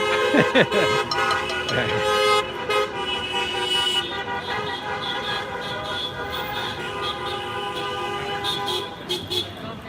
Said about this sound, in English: Honk, honk, honk, honk.